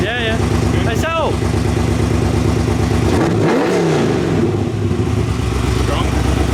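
Drift car engine revving near 3,000 RPM, loud and close with a harmonic drone that swells and falls as the revs change, while people talk over it.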